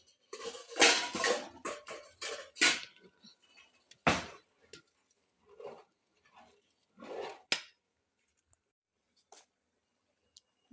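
A spoon stirs thick rice-flour vadiyalu batter cooking in a pot, giving irregular scraping and knocking clatters that come in busy bursts and then in sparser strokes with pauses, close by.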